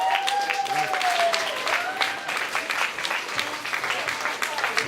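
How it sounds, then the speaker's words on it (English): An audience applauds a performer, J. Douglas, at a 30th-anniversary community event. The clapping is steady and moderate, with a voice talking over it. "please give a warm round of applause for the man himself"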